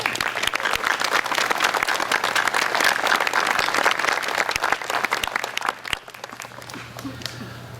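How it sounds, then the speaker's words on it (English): Audience applause at the Tilton School graduation ceremony, dense and sustained with crisp individual claps, then thinning out and fading into quieter room sound. "They deserve our applause."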